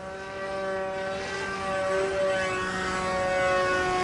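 An RCPowers F35 v3 model plane in flight gives off a steady, continuous whine with bright stacked tones that shift slightly in pitch as it passes, moderately loud and alone throughout.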